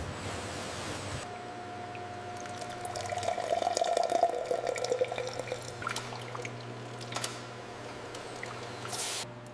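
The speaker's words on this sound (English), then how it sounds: "amber fish sauce fills each sterilized bottle" At a Vietnamese anchovy fish sauce factory, liquid runs steadily into bottles on a production line, giving a continuous splashing trickle over a low mechanical hum and a few faint clinks. No voices are heard.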